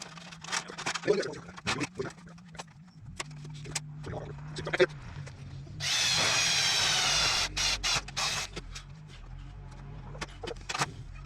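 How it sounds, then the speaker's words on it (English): Power drill boring rivet holes in sheet metal while building a glass-blowing kiln, one sustained loud whir of about two seconds, surrounded by clanking, tapping and workshop handling sounds. "I'm gonna drill a hole and rivet as I go."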